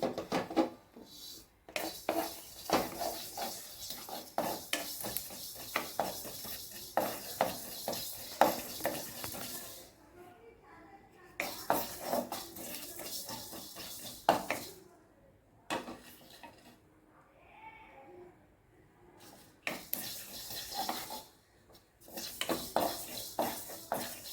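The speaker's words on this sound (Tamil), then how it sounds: "எண்ணெய் எள்ளு பொரிச்சோன்னு எல்லாம் படப்படவான்னு தெரிஞ்சுக்கோங்க" Sesame seeds crackle and sizzle in hot oil in a pan, a dense steady popping texture with stirring and utensil scrapes, pausing briefly in places, close and moderately loud with no talk.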